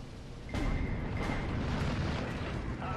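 Bomber-dropped bombs explode in the WWII strategy game Steel Division 2, a sudden heavy blast that swells into a sustained, rumbling roar of detonations lasting to the end, with no talking.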